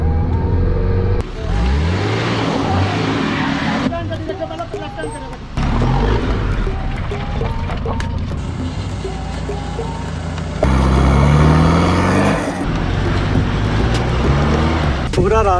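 A Mahindra Thar SUV engine drones on a wet off-road trail, a steady loud rumble with changing gear and rev pitch, and people talking over it throughout.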